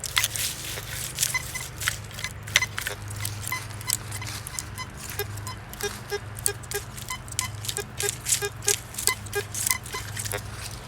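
A metal detector sweeps over an Eagle coat button buried nine inches deep, giving faint, short repeated beeps over a swishing coil sweep and a steady low hum.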